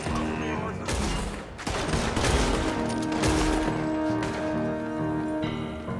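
Rapid gunfire from the video game Red Dead Redemption 2, dense overlapping shots in a sustained volley over a musical game score, loud and continuous for the whole stretch.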